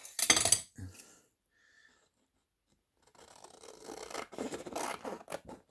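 A brief burst of snipping and rustling, then near silence, then a longer stretch of scratchy cutting and paper handling, close and fairly quiet.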